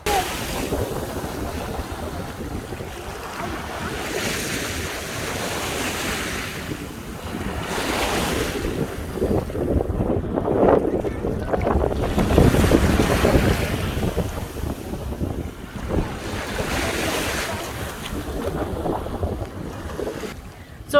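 Ocean waves roll in on a hot, sunny, crowded beach, with surf swelling and fading in slow cycles beneath heavy wind buffeting on the microphone and a faint wash of distant activity.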